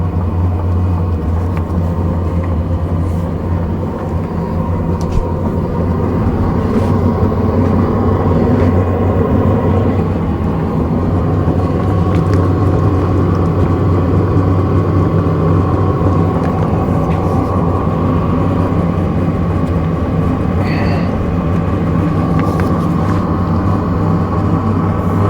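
An Hcalory TB Max diesel heater runs and ramps up, a steady loud mechanical whir and hum with a low droning fan tone that holds constant throughout, no voices.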